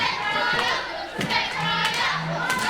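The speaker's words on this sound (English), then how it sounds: "The crowd trying to do their best to support Crowley." An indoor wrestling crowd cheers and shouts in support of a wrestler, a dense roar of voices with scattered yells and claps swelling and falling, while a commentator's voice is faintly present.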